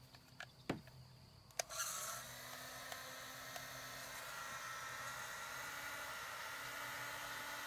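A heat gun starts with a click and then blows a steady, faint whirring hiss while heating plastic on a simple kayak crate, preceded by a few small knocks.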